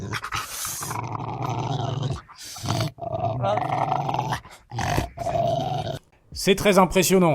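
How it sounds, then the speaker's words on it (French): A Rottweiler growls in long, deep, rumbling stretches broken by brief pauses, loud and close, with a voice speaking briefly near the end. "un Rottweiler qui grogne, on va écouter ça tout de suite."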